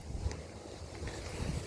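Strong outdoor wind buffets the microphone in a steady low rumble, loud and close, with gusts swelling toward the end and no one speaking.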